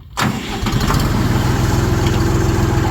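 An RD-244 tractor engine fires after a brief quiet moment and settles into a loud, steady, close-up chugging idle with an even pulsing rhythm.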